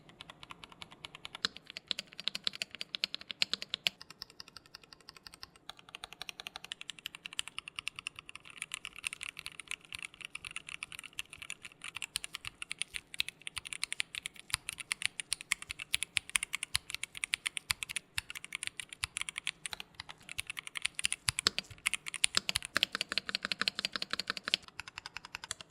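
Steady, close mechanical keyboard typing on an ASUS ROG Azoth wireless keyboard with a 2.5-inch OLED screen: a dense run of deep, thocky keystrokes with a muted, softened click, continuous for about twenty-five seconds with no voices.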